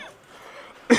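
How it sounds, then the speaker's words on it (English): A persistent, nagging cough bursts out once, short and sharp, close to the listener after a quiet, low background. "This damn cough."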